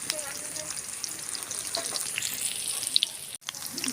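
Pea pakoras crackling in hot oil, a steady close sizzle with a few sharp ticks and a brief gap near the end.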